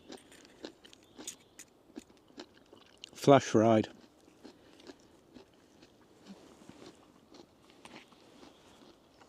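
Biting and chewing on crisp flash-fried vegetables served with mashed potato at a solo woodland camp meal, a short close crunchy burst of a couple of seconds amid quiet outdoor background and occasional talk.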